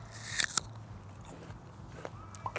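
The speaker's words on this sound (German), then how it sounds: "Ich kaue den Apfel." Someone bites into an apple with a sharp crisp crunch, then chews with softer, irregular crunches at close range, fairly faint and with no talking.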